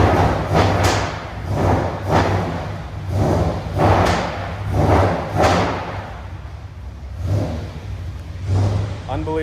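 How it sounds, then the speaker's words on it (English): A Lamborghini LM002 with a big V12 fires up and idles, its deep engine note pulsing in repeated loud swells with thumps, close by, with some voices faintly present. "here's the startup noise of the LM002, predecessor to the Lamborghini Urus"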